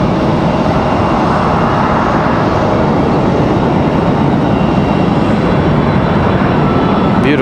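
A FedEx airplane at Raleigh-Durham International Airport gives a loud, steady broadband engine roar that holds constant throughout, with no talking.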